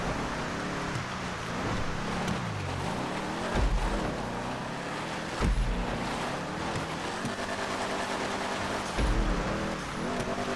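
Rally car driven through a Grand Theft Auto V race, engine droning steadily with broadband road and wind noise, a few louder thumps as it bounces over rough ground.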